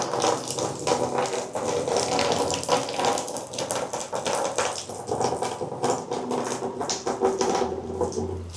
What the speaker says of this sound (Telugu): సో ట్యాంక్ నుంచి వాటర్ రిమూవ్ చేసేద్దాం.